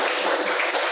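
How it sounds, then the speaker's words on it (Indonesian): A church audience at a parenting fellowship gathering breaks into applause, a loud, steady, dense wash of clapping filling the whole moment with no talk over it. "kita berikan tepuk tangan dulu."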